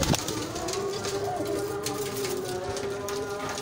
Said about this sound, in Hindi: बड़े अच्छे पार कुंडे के कबूतर हैं